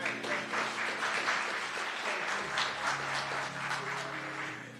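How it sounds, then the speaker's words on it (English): Audience applause at a talk on faith, freedom and feminism: dense, steady clapping from many hands that holds strong throughout and thins slightly at the very end. "Let's give her another round of applause for being informative, organized, and brief"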